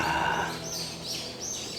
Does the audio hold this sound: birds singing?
yes